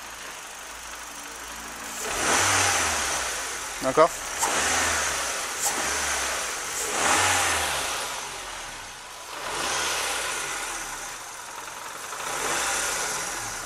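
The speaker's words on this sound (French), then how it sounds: "Donne quelques petits coups de gaz." A Nissan Micra K12 with the 1.4 petrol engine is given several short blips of throttle, the revs rising and falling in a few separate bursts under a broadband engine noise, with someone speaking briefly.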